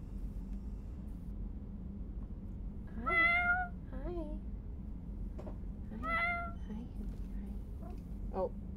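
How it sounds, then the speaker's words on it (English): A cat meows three times, in short tonal cries spaced a few seconds apart, fairly faint over a low steady room hum. "What is wrong with meowing?"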